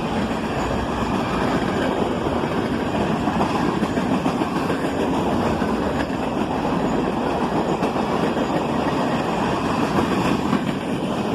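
A long freight train rolls steadily past with a refrigerator car in the consist, its wheels and cars producing a continuous loud rumble and clatter with no talking.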